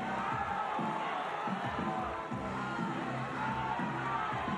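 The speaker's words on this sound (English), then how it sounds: "the atmosphere from the crowd there, from the team, screaming even more now" A crowd and team scream and cheer at a bouldering semifinal of a Budapest climbing competition, a steady roar of many voices filling the venue, fairly distant and continuous with no pauses.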